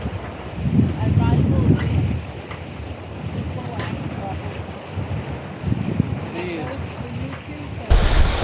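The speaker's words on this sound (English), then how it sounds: "Winds have just got up to 25 knots true wind speed" Strong wind buffets the microphone aboard a sailboat at sea in gusts of about 25 knots, a steady loud roar with rushing water and wave noise beneath and louder bursts near the start and end.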